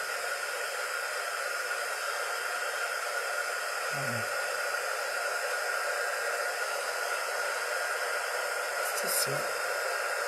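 A hair dryer blows steadily on wet paint on a DIY Christmas ornament door hanger, a loud constant whooshing whir that fills the whole stretch, with a few brief spoken words over it.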